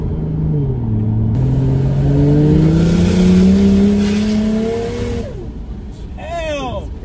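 Barra-engined ute accelerating hard in third gear, a loud rising engine note climbing steadily for several seconds before backing off, with excited voices shouting nearby.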